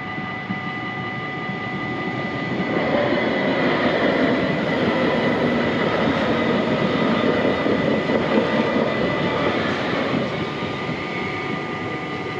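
A tram passes on the newly opened Amstelveenlijn line, a continuous rolling rumble with faint tonal whine that swells midway and stays fairly close, no talk.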